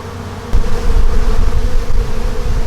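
Honey bees from an April package colony buzz in a dense, steady drone during a hive inspection, close and loud, rising slightly after the first half second and holding on without pause.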